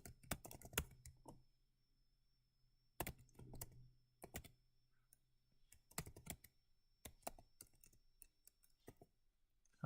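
Someone types on a computer keyboard while editing in Vim, quiet bursts of close key clicks separated by short pauses, irregular and fairly faint.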